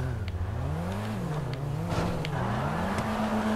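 Engine of a car in a GTA 5 custom race drones steadily, its pitch rising and falling as it revs and shifts, with a few faint clicks on top.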